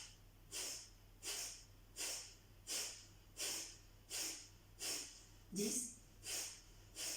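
Forceful pumping exhalations in a yoga breathing exercise: about ten sharp, evenly spaced breath bursts pushed out from the belly in a steady rhythm, close and clear, with a voice counting.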